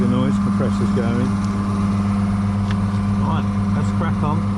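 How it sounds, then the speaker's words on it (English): An air compressor runs in a car repair workshop, giving a steady loud mechanical drone with a constant hum that fills the whole stretch, while faint chirpy sounds come and go above it. "Excuse the noise, compressor's going."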